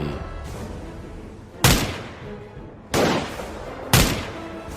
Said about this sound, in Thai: เปิดลูกซองแฝดประจำกาย แล้วสาดกระสุนออกไปใส่มันทันที